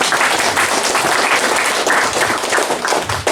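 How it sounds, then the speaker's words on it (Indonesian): An audience at a church thanksgiving celebration claps loudly and continuously, a close, dense wash of hands with occasional thumps, sustained from start to finish. "Mohon izin saya berikan tepuk tangan untuk"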